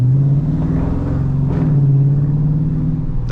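A cammed 2022 Dodge R/T idles with a loud, steady, lumpy low rumble, the choppy cam loping continuous and close throughout with no talk.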